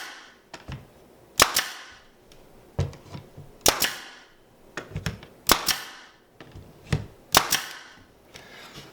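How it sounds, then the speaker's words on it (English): A staple gun fires sharp, percussive snaps while fastening a fiberboard shelf onto a wall, about a dozen shots in irregular pairs and singles, each with a short ringing tail, close and distinct. "I'm just going to go ahead and staple this on"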